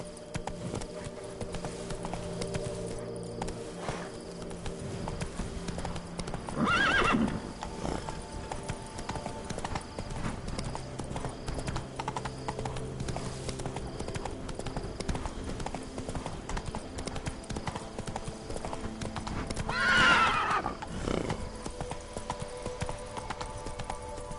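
Horse hooves clip-clop steadily at a gallop in the video game The Witcher 3: Blood and Wine, over a constant background bed, with two short whinnies standing out at about seven and twenty seconds.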